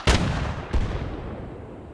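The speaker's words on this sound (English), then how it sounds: "Then we got a 100mm high explosive frag." In the Arma video game, a vehicle's 100mm high-explosive fragmentation shell fires twice, each a sharp heavy boom trailing into a rumbling decay, with no talk.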